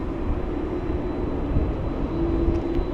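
Airliner engines roar steadily at LAX, a broad continuous rumble with a faint tonal whine rising near the end, heard alone at moderate distance.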